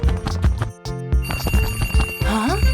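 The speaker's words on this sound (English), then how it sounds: "Suddenly, the alarm clock rings loudly." An alarm clock rings loudly in a children's cartoon, a rapid, metallic, harmonic ringing that repeats in pulses with brief gaps, close and dominant, with a short sliding tone near the end.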